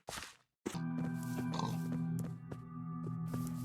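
Minecraft pig oinks and grunts sound over a steady tonal music bed, after a brief silent gap at the start.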